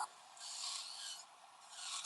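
Nail drill bit filing a nail, a faint close rasping hum that swells and fades in a couple of short passes, quiet and alone.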